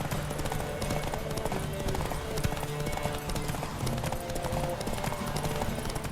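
A horse gallops in The Witcher 3: Wild Hunt, its hoofbeats a quick, steady clip-clop running under dense game ambience and music at moderate loudness throughout.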